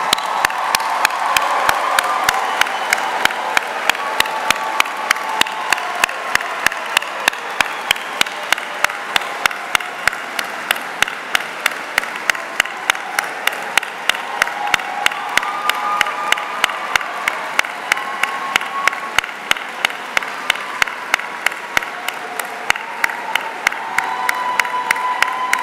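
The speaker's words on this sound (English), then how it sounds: "there's never too much applause" Audience at a Carleton University convocation ceremony applauding and cheering the graduates; dense, loud, sustained clapping with scattered cheers and whoops, continuous across the whole stretch without any break.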